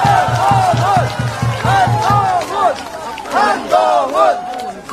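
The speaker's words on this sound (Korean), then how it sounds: "여러분 환호해 주십시오" A crowd at an outdoor political campaign rally on a busy youth street in Bupyeong, Incheon, cheers and chants loudly in a rhythmic, repeated pattern close by, then breaks into looser shouting.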